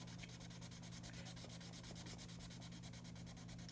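A marker is rubbed back and forth over paper to smooth out green colouring, making a steady, fast rhythmic scratching that runs continuously and close up, with no voices.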